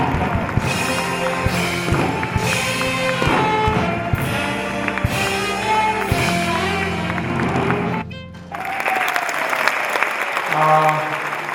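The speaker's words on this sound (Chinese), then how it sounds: "让我们热情掌声欢迎林展毅老师" Warm applause at a Hakka singers' concert in a performance hall welcomes teacher Lin Zhanyi: dense, sustained clapping with music underneath, dropping briefly before a loud burst resumes with rising music.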